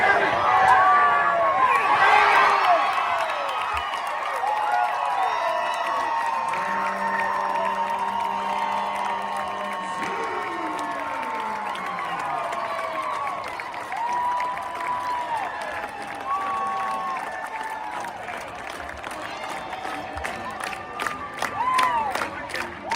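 A stadium crowd at a college softball game roars after a walk-off home run, sustained cheering and applause with whoops rising loud and close, then settling into mixed crowd noise and scattered clapping.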